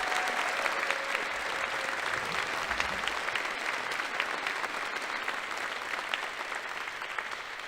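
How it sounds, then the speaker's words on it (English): A school audience at a 2023 athletic letterman awards ceremony applauds steadily, dense clapping filling the room without a break for several seconds. "Let's give all of our class of 2023 Letterman a big round of applause."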